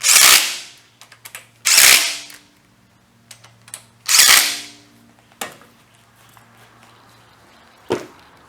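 Power tool zipping bolts onto a Ford FE transmission adapter crank adapter, several loud close bursts of roughly half a second each, separated by quieter clinks and short knocks, with no talk.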